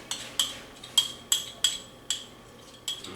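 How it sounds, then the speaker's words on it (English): A small spoon clinks sharply against a bowl while scooping honey, about seven bright metallic taps in an uneven rhythm, close and clear with no talking. "Let's get a small spoon out here so we can scoop all of this honey in here too"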